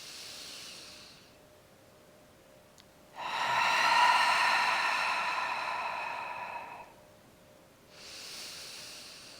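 Slow, deep breaths drawn in and let out during a 360 ribcage breathing exercise: a faint airy exhale, then a long, loud, close hiss of breath lasting several seconds, followed by another softer breath.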